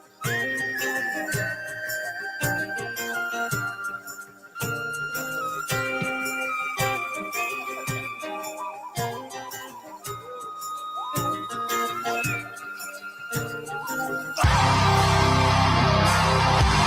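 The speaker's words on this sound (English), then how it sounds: "Your pan flute and penny whistles." Folk metal with bright whistle-like flute melodies over driving drums and guitars, loud and dense, ending in a burst of heavy noise.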